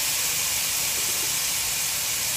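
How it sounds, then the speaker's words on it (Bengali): Ridge gourd dropped into hot fried spice paste, giving a steady, bright, hissing sizzle that stays even and close throughout with no talk over it. "এখন এতে আমি দিয়ে দিব আমার ঝিঙ্গাগুলো।"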